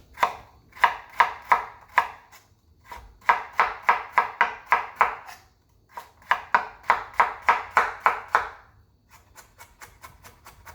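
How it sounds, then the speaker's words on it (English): Carrots chopped with a sharp knife on a cutting board for a Jamaican salt fish and cabbage dish, in three fast bursts of crisp, evenly spaced chops with short pauses between, then softer lighter taps. "Carrots, you want to cut them a bit smaller than normal because everything in this dish cook quicker"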